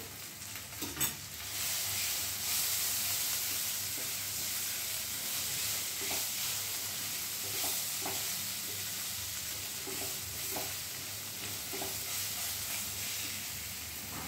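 Ground spices, cumin powder, dried red chilli paste and black pepper, sizzle steadily while being fried and stirred in a pan for chicken cutlets, with a continuous close hiss and occasional scraping stir sounds.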